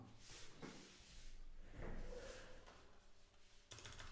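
A door or drawer in a house moves with a few soft, muffled thuds and a brief sliding rub, faint and somewhat distant, followed by a sharper knock near the end.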